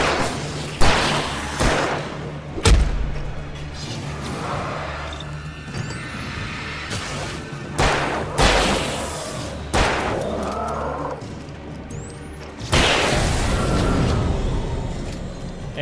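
Gunshots in the game Alan Wake, several loud sharp blasts spaced irregularly with booming tails, set among thuds and other game noise.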